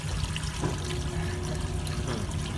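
Air bubbles into an aquaponic fish tank on a farm in Toronto, a steady close watery burble and hiss that continues evenly throughout, with no talking.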